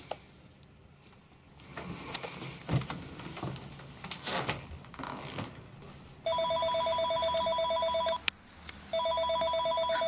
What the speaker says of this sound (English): Now he's calling the home phone.